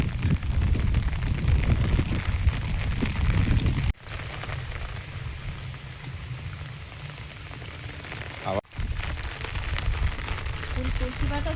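Heavy, continuous monsoon rain pours down in a dense, unbroken wash of noise on a Shravan day. The downpour stays loud and close throughout, with two brief dips partway through.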